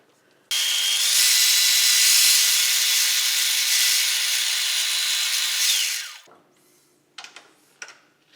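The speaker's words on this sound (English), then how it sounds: "We're going to drill straight through the wood all the way to the other side." A power drill bores a hole straight through a wooden gunstock for an escutcheon, a loud steady high-pitched whine lasting about six seconds before spinning down, followed by a few faint clicks and handling sounds.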